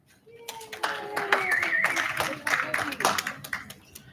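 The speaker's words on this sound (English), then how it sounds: "you guys can clap if you want" Scattered, uneven hand claps from a handful of people at a UMass Amherst student government senate meeting, sharp and fairly close, with people talking over them before they fade out.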